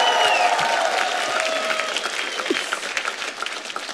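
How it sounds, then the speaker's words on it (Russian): A TV game show studio audience claps in applause that starts dense and loud and gradually thins into scattered claps, with faint voices and whoops underneath. "Эти аплодисменты вам, дядь Сань."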